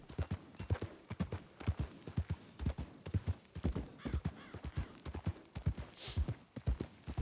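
Horse hooves clip-clopping in a steady, brisk rhythm of sharp, close knocks that run without a break.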